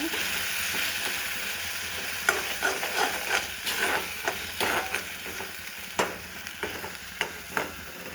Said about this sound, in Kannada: ಇದಾದಮೇಲೆ ರುಬ್ಬಿರೋ ಮಸಾಲ ಹಾಕ್ತಾ ಇದ್ದೀನಿ ಸ್ವಲ್ಪ ಎಣ್ಣೆ ಒಳಗೆ ಫ್ರೈ ಆಗಲಿ